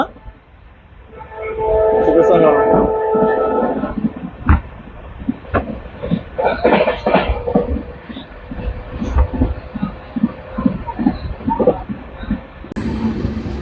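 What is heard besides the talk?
train running at high speed on the Rameshwaram-Tambaram line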